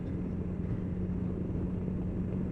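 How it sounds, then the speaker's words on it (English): A 2019 BMW S1000 XR motorcycle cruising around 40 mph gives a low, steady engine and exhaust throb mixed with rushing wind noise, with no break in the sound. "you can hear this throb of the exhaust"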